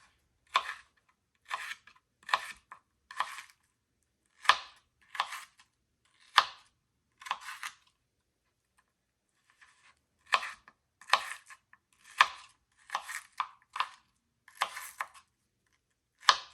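Knife chopping an onion on a board, crisp separate strokes in short bursts with pauses between, close and clear with no talk.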